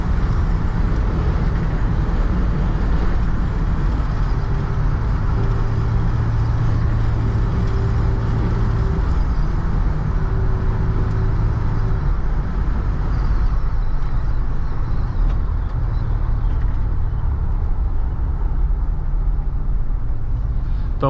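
Loud, constant interior drone of a 1988 Dodge Ram B250 Safari van while driving, with heavy low-end road and engine rumble and faint tonal whine running steadily throughout, no voices.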